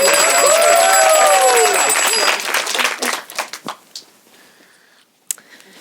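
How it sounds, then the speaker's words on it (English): Loud applause and cheering from an improv comedy audience, dense clapping with whoops at first, then thinning into scattered claps and fading out. "please give a big round of applause for first date"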